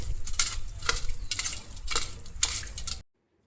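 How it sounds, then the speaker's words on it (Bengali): Prawns fry in hot oil, giving four rhythmic bursts of sizzling and stirring that cut off abruptly into silence. "তেলটা গরম হয়ে গেছে এরপরে চিংড়ি মাছগুলো দিয়ে দিই"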